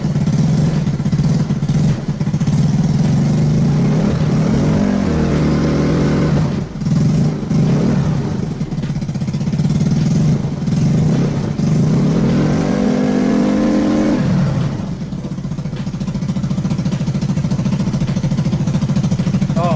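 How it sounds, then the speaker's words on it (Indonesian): A motorcycle engine being revved hard again and again after a headlight fix with a diode, a loud close throttle roar that holds steady and surges in repeated waves with no talking. "Udah saya gas sampai mundur-mundur gak karuan"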